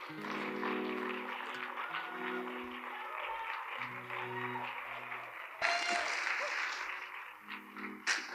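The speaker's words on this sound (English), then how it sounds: "let's just stand, clap your hands" An audience at a singing competition finale applauds steadily to welcome a singer onto the stage, with a host's voice speaking over the clapping.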